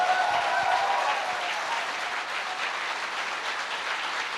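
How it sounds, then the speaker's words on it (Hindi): Audience applause at a motivational training event, a dense, steady wash of many hands clapping that holds at an even level throughout, with no voices above it. "गुरु जी के लिए एक जोरदार तालियां होनी चाहिए।"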